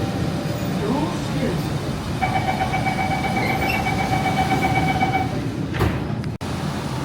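Steady rumble of a train interior in motion, travelling from Singapore's airport to the city, with a brief tonal chime partway through and a sharp clunk near the end.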